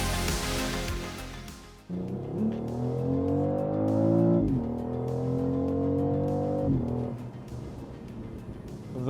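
The B58 engine in a 2025 BMW X3 M50 revs hard and climbs through the gears, each quick upshift cutting the rising drone before it builds again, loud and close inside the cabin.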